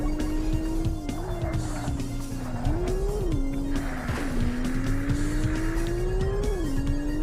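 Porsche car braking into a tight corner on a long track in the PlayStation racing game Porsche Challenge, a steady loud engine drone that dips in pitch and rises again while tyres scrub through the turn.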